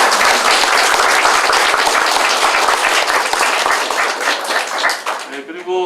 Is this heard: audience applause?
yes